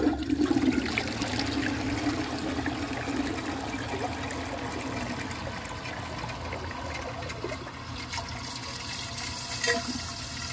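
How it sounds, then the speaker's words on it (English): A 1992 Eljer Preserver toilet flushes with its handle held down while trying to pass a washcloth and grocery bag, making a close, sustained rush of water that slowly settles into trickling. "I'll try another flush."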